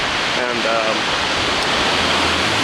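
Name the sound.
strong ocean waves crashing on the Washington coast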